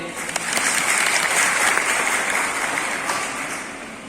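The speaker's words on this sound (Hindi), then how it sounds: "ताली बजाइए" Steady applause from a wedding ceremony congregation, a dense wash of clapping hands that swells early and holds at a fairly even level for several seconds.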